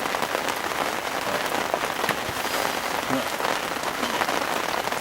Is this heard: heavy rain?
yes